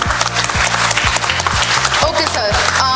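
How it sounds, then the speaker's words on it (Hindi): Hearty applause for parents and guardians at a student success celebration, with dense clapping throughout and a repeating low musical beat running underneath it. "सो सारे पेरेंट्स और गार्डियन के लिए एक बार जोरदार तालियाँ"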